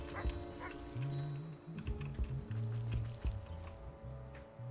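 Dog in the Wytchwood video game, giving short yips and barks amid game music tones and light clicking.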